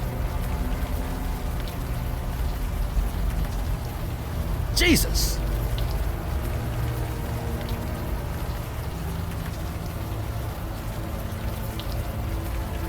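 Warm rain falling in the adventure game Unavowed, a steady dense hiss of rainfall throughout, with a brief voice exclamation partway through.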